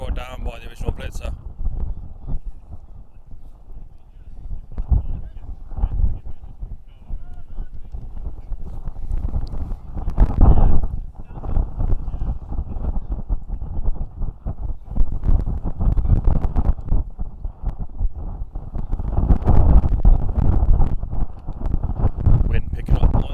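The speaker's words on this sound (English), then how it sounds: "Wind picking up once again" Wind buffets the microphone at an outdoor American football game between the Nottingham Bears and Sheffield Vipers, a loud, steady low rumble with gusts throughout while a commentator talks over it.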